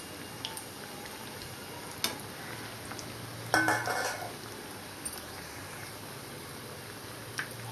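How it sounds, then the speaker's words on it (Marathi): Stuffed bread pakoda frying on one side in a pan, a soft steady sizzle with occasional light clicks and a brief louder stir or scrape partway through. "आपण हे एका बाजूने खूप छान फ्राय करून घेणार आहोत"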